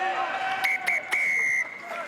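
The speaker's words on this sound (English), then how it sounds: "And that is the halftime whistle." Referee's halftime whistle at an amateur rugby match, several sharp shrill blasts in quick succession followed by one long sustained blast, loud over crowd babble and a commentator's voice.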